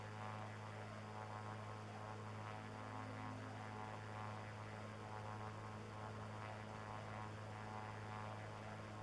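Airplane engine in the video game Saints Row: The Third, a steady low droning hum with a faint propeller-like pulse, constant and fairly quiet throughout with no speech.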